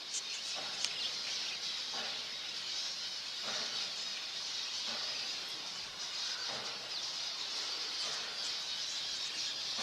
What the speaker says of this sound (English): Budgies flying out the back.